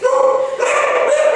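Dogs in a boarding kennel give a loud, close, sustained bark and howl that carries through the brief moment.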